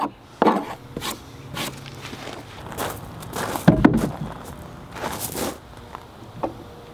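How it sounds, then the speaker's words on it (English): Sharp, irregular knocks of a hammer striking a chisel to remove bulk wood, with scraping and quieter taps between the louder blows. "I use a hammer to remove the bulk of the material and then a sharp chisel to finish it up."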